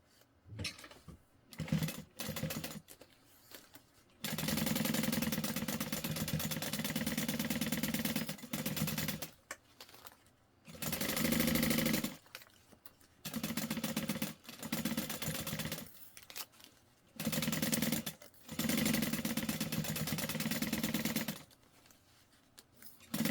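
A sewing machine bastes a trick-or-treat bag in repeated bursts of rapid, buzzing stitching, each run lasting a few seconds and separated by short quiet pauses and handling clicks.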